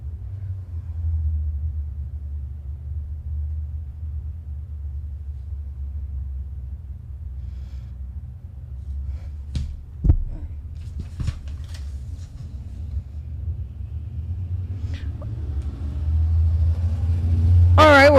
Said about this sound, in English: All right, these are our late models that are coming out.